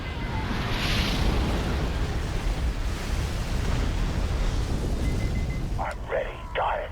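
A MAC cannon round in Halo Wars fires and detonates as a sustained, loud broadband roar and rumble lasting several seconds, ending with a brief electronic voice-like burst.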